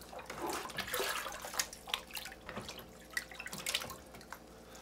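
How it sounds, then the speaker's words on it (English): Bleach water dripping from growing containers left to drain, a quiet scatter of irregular small drips and trickles with several sharper plinks, nearby and alone. "we're just gonna let the water drip down and evaporate"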